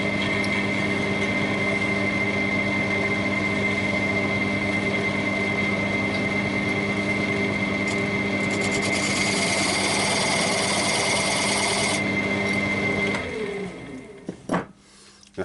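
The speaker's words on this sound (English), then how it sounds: "A little pointed skew chisel. I'm just going to use the point and make a groove." A wood lathe fitted with an eccentric chuck hums steadily while a pointed skew chisel cuts a groove in the spinning wood, with a brighter scraping cut in the middle before the motor winds down near the end.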